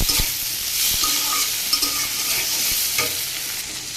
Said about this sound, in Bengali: সিমটাকে একটু এরকম করে ভাজা ভাজা করবো